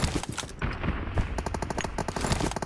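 Rapid bursts of automatic gunfire from PUBG Mobile, loud and close, with sharp repeated shots in quick rattling strings.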